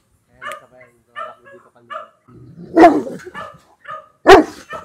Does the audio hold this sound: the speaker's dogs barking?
yes